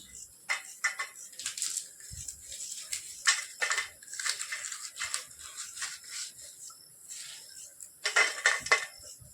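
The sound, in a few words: peeling garlic cloves by hand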